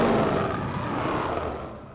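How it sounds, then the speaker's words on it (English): A layered monster scream, pitched down into a deep, rumbling roar, holds steady and loud before tapering off over two seconds. "adding layers to that scream and pitching it down"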